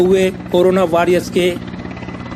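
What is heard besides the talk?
army helicopter flying overhead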